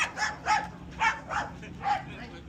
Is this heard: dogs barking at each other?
yes